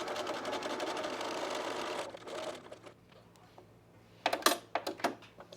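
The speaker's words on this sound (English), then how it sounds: "I'll backstitch down here, but when I get to the top, I'm going to hand tie the dart." A sewing machine stitches a dart in a dress, a quiet steady whir for about two seconds that stops, followed by a lull and then a few sharp handling clicks and knocks.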